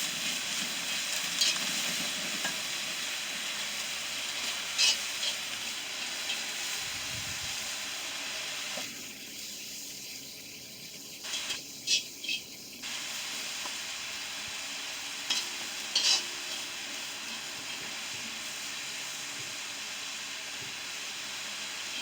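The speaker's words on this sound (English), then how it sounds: "Some peppers and onions mixed up so they can all saute equally." Peppers and onions sauteing on an outdoor homemade fire stove make a steady hissing sizzle throughout, with a few faint clinks and a brief softer stretch in the middle, and no one talking.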